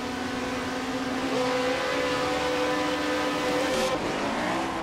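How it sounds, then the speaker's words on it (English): A Brabham BT24 Formula 1 car spins its wheels at Monaco 1967 in a VR racing game. The engine screams loud and close, its pitch climbing, dipping briefly, then rising again. "A little bit of wheel spin."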